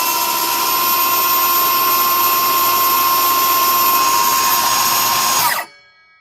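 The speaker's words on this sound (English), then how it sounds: "I'm just going to put it up a little bit just to show that it runs." A Ryobi 18V brushless 7-1/4 inch circular saw spins up on its own, holding a steady, loud high-pitched whine for about five seconds before the brake stops it abruptly, leaving near silence.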